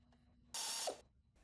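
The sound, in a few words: ratchet tightening turbo mounting bolts with sockets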